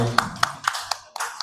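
A handful of separate, evenly spaced hand claps at a launch event at the O2 Indigo, fairly close and crisp, with voices in the background.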